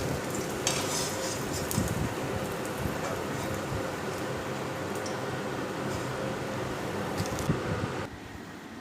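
Chicken pakoras being lifted out of hot frying oil, a continuous crackling sizzle with occasional clinks and scrapes of a metal slotted spoon against the pan, close and steady, quieting near the end.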